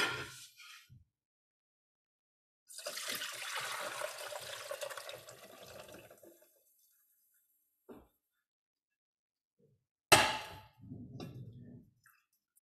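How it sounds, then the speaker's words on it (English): Simmered ginger tea, cooled to room temperature, is poured through a strainer in bursts: a few seconds of splashing liquid, a short trickle, a brief clink, then another quick pour ending in drips, close and quiet between pours. "so we're just gonna strain the ginger off"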